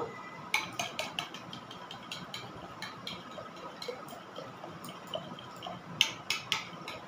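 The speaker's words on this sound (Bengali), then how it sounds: "এখানে দইটা ভালো করে ফেটিয়ে নেব" A utensil whisks yogurt in a bowl, making light metallic clinks and taps in an uneven rhythm. It sounds close and fairly quiet, with a few sharper clinks standing out.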